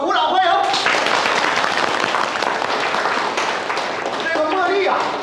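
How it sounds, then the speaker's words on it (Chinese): Group applause from people gathered at a village chicken-farming alliance dinner, welcoming a guest: dense, steady clapping filling the whole stretch, close and loud, with voices and cheers mixed in. "大伙鼓掌欢迎！"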